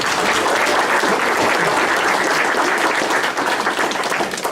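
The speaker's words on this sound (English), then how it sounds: "Let's give them a big round of applause." A crowd applauds steadily at a touchdown club banquet, dense overlapping clapping that stays loud and even throughout without any voices standing out.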